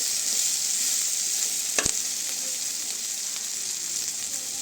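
Steady loud sizzle of prawns and ingredients frying in a pan for a village-style prawn and drumstick curry, with a sharp clink or knock near the middle and no talking.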